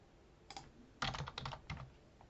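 Fingers tap out a password on a computer keyboard in a few short bursts of quick clicks, close and fairly quiet, with no voices.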